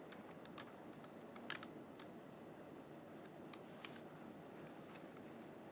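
A computer keyboard being typed on while setting up a screen reader, with faint, sparse key clicks and a few sharper taps over a steady background hiss.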